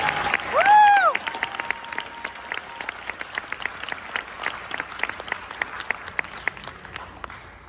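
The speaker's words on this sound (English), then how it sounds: "Big round of applause. Congratulations, Macy Rowan." Students applaud at a high-school softball signing day, a steady patter of clapping that carries through the whole stretch with a few sharper individual claps, while a brief whistle-like tone rises near the start.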